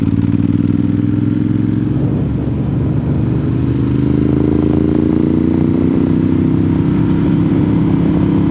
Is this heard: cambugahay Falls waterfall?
no